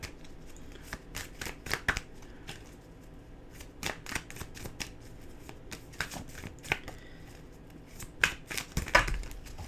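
Oracle cards are shuffled steadily at close range, giving a run of crisp riffling slaps and flicks that continue throughout with no talking.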